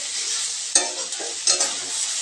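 Salted, watery ash gourd cooking in a kadai, a dense, steady hiss of sizzling moisture with two sharp stirring scrapes that briefly lift the sound, close and with no voices.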